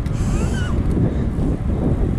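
Wind roars steadily across a microphone during a boat ride, a continuous loud low rumble with a faint engine-like drone underneath and no clear speech.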